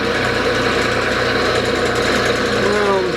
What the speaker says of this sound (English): I'm going to speed my lathe up.